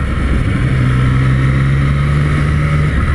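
A Triumph Street Triple 765 RS motorcycle rides along an asphalt road, its engine giving a loud, steady drone with a sustained tone throughout, with no voices.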